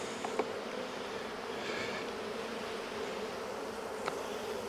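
Honey bees buzz steadily around an opened hive during an inspection after removing Formic Pro strips, a dense continuous hum close by with a few louder passes, no talking.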